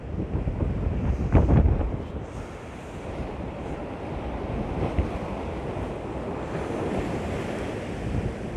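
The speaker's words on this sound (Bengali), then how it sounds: "ওই দিক নদী যেতেছে, দেখো কত ঢেউ" Waves roll and break steadily where the Thames estuary meets the Atlantic, with heavy wind buffeting the microphone throughout, loud and continuous with no voices.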